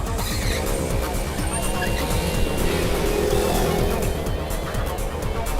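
A car drives fast with a loud, continuous roar of engine and road noise that stays steady throughout, set in a chase scene from a Hindi-dubbed South Indian horror film.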